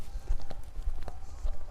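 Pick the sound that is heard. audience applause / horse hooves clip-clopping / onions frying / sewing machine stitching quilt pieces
horse hooves clip-clopping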